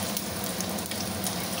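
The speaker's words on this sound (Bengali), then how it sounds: "পনিরটা এবার একটু উল্টে পাল্টে দিচ্ছি, চারদিক যেন ভাজা হয় ঠিক সেভাবে পনিরটাকে উল্টে দিচ্ছি।" Paneer frying in a pan, a steady, moderately loud crackling sizzle that continues evenly throughout with no talk.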